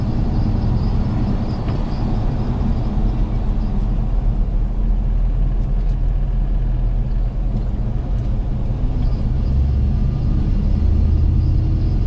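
An LS-swapped GMC K2500 truck drives through the city of Plainview, Texas, a steady low engine rumble and road noise heard from inside the cab with no talking.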